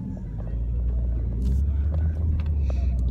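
A car driving through a red light, a steady low engine rumble and road noise from inside the cabin, continuous and fairly loud with no distinct changes.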